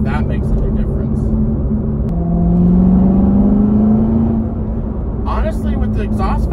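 A C7 Corvette with its exhaust valves open and a performance air filter fitted revs up and settles back, a low steady engine drone that rises briefly mid-way, close and loud with faint background noise.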